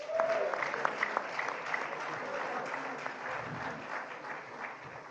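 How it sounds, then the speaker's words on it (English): Audience applause at a press address by Atiku Abubakar, a steady wash of clapping from a crowd of journalists and supporters, moderately loud and sustained for the whole stretch. "He deserves another round of applause"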